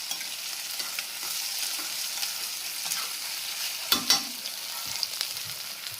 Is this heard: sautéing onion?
yes